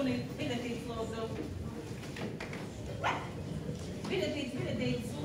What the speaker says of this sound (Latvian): Tikšu galā ar jūsu suni.